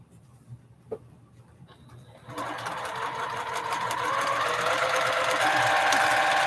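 After a few soft handling clicks, a sewing machine starts up and runs a flying geese quilt seam in one steady, close, rising whirr.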